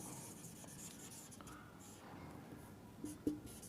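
Chalk or marker writing a sentence on a classroom board, a soft continuous scratchy rub under room hiss, ending in a few sharper taps.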